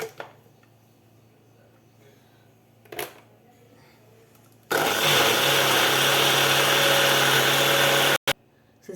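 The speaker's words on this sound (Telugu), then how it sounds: "మిక్సీ వేసుకుందాం" A kitchen mixer grinder churns cream (malai) to make butter for ghee, starting abruptly with a loud, steady, dense whir that runs for several seconds and then cuts off, after a few quiet handling knocks.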